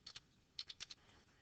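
Soft keyboard taps entering numbers into a calculator page, heard as two quick clicks and then a run of four light keystrokes, faint and close against a quiet room, with no voice.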